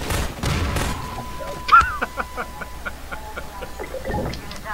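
Gunfire in the co-op game Half-Life 2 Synergy, with a rapid series of sharp, evenly spaced shots after a louder thump, heard with game sounds and a steady tone in the background.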